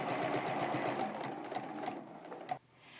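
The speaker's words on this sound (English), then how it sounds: "stitching on those lines, and then stitching between them so that I fill the entire space with beautiful straight line" A sewing machine with a walking foot runs steadily while straight-line quilting, giving a close, continuous rapid stitching whir that cuts off sharply near the end and leaves a quiet hum.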